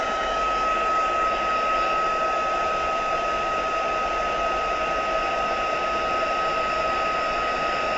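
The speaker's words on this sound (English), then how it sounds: "So the reason I'm drying this one is because it's VersaFine Clair, so it takes a little bit longer to dry" A heat tool or hair dryer blows a steady, loud whir for the whole stretch, drying freshly stamped VersaFine Clair ink on an industrial-themed craft card, with no talking.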